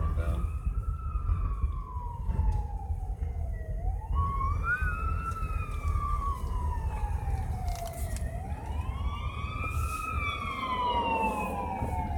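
A fire truck siren wails through repeated rising and falling sweeps, fairly close and loud over traffic rumble, continuing for several cycles.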